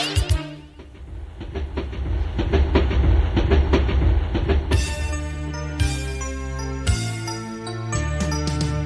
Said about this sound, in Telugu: చుక్ చుక్ బండి వస్తోంది, పక్కకి పక్కకి జరగండి